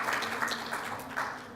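An audience applauds after a presentation, a dense steady patter of many hands clapping at moderate volume, with a couple of brighter swells.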